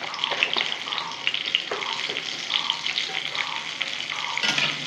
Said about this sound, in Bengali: লাল লাল করে আলুটা ভেজে নিয়েছি